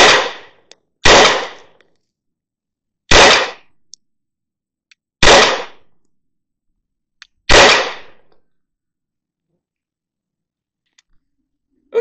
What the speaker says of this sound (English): we're going to go ahead and shoot 5 more rounds